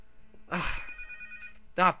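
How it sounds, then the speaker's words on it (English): A telephone rings with a bright electronic bell tone, two short rings separated by a pause, fairly close and alone in an otherwise quiet room. "Phone."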